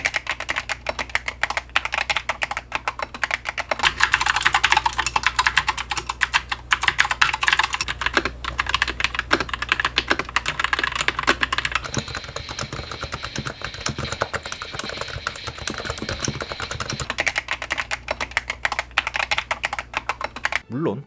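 Rapid, continuous rough typing on a magnetic-switch gaming keyboard, with clacky keystrokes in an uneven rhythm, loud and close throughout.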